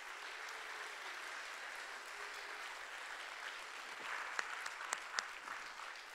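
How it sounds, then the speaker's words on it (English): A church congregation stands and applauds children, a faint, steady, distant wash of many hands clapping that holds throughout, with a few sharper individual claps near the end. "Let's give them a round of applause."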